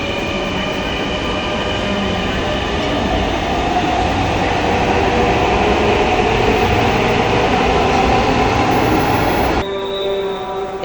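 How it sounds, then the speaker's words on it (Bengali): A train pulls away from a station platform, its steady loud rumble of wheels and carriages rolling continuously and close, fading abruptly near the end, with no talk. "ট্রেন আমাদের নামিয়ে দিয়ে এখন আবার ছুটে চলল তার নিজস্ব গন্তব্যে।"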